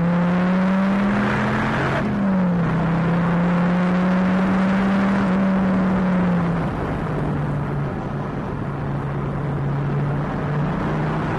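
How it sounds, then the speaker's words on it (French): Dodge Viper SRT/10 American muscle car engine accelerating, a steady loud drone that climbs, shifts around two seconds and pulls again, heard close from inside without talk. "construite autour du moteur, qui pousse vraiment fort, et ce, à tous les régimes"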